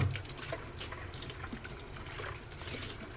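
Sandy water gets poured into a pan of cooking chicken, giving a soft, close trickle and splash that runs for a few seconds at a moderate level.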